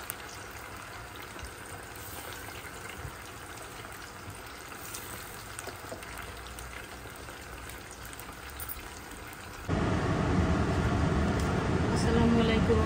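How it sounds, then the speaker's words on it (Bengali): Chicken pieces frying in a pan for butter chicken, a soft steady hiss and bubbling that swells to a louder, fuller sizzle in the final few seconds. "এইভাবে আমরা ভেজে নেব"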